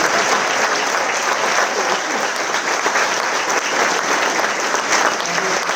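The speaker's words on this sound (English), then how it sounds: "I think you deserve a round of applause." Sustained, even applause from a concert audience at a charity band concert, honouring the pianist Jessica, a dense roomful of clapping hands holding steady throughout.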